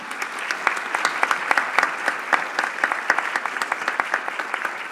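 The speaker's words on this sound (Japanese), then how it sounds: "もう一度大きな拍手をお送りください" Audience at a youth summit panel session in Yamagata bursts into sustained, dense applause, many hands clapping steadily throughout with no voices rising above it.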